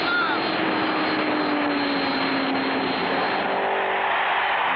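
Race car engine in a 1959 cartoon race, a continuous loud buzzing drone with a slowly sliding pitch, steady and unbroken throughout.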